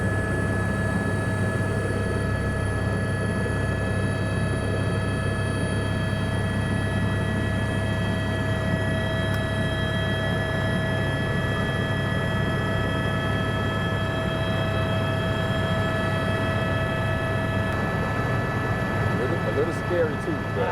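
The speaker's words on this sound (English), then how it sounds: "About to get ready to take this helicopter ride." Steady, loud engine drone with a constant whine throughout, from inside the cabin of a helicopter in flight over Switzerland, with voices talking over it.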